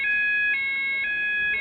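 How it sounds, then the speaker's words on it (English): A fire alarm sounder, an XP95 system, is going off in a food warehouse, giving a loud, steady electronic tone that pulses about every half second and carries on without any voices. "Is that all that's going to happen, is the fire alarm going off in the food warehouse?"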